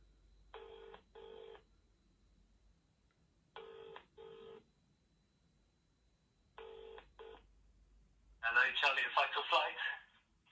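A telephone ringing on an outgoing call, three paired ring bursts spaced evenly and heard clearly through the line, followed by a voice answering.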